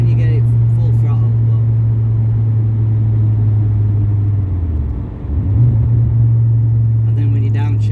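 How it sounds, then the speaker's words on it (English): A VW Beetle with a 2.3 V5 engine drones steadily at full throttle, its loud low engine note holding, dipping briefly for a gear change and then climbing again, with short bits of talk at the start and end. "It's nice when you get it full throttle"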